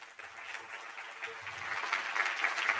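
An audience claps for a speaker at a talk, a soft, even spread of many hands that swells slightly toward the end, with no voices over it.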